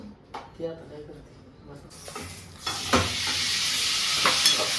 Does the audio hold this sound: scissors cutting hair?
no